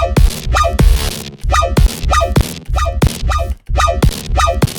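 A Serum synth patch with its all-pass filter switched on plays a loud, rhythmic pattern of repeated bright stabs with pitch swoops over a heavy low end, in a dark electronic style, with no voices.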